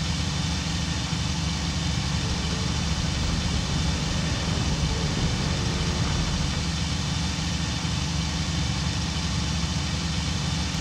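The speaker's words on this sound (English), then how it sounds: "You hear how the engine is going higher and higher, and now it's very high." Steady, loud drone of an aircraft engine running at high RPM in the Cliffs of Dover flight game, holding a constant pitch throughout without pause.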